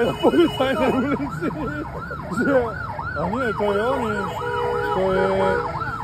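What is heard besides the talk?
police-style siren on a car in Egypt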